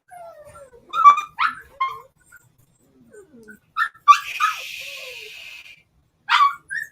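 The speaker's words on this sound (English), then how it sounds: "Oh, this is one puppy." A puppy whimpers and yips in short, high, thin bursts, close to the microphone and fairly loud, with a brief breathy sniff in the middle and quiet pauses between cries.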